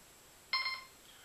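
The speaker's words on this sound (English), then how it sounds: "after a few seconds you'll hear a couple of double beeps" A Goldmax Power metal detector gives a short, bright electronic double beep right after being switched on, clear and close against a quiet background, then falls silent.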